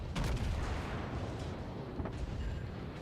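Ship secondary guns fire in World of Warships, a steady rumble of distant booms and cracks rolling under a constant low roar, fairly faint, with no voices.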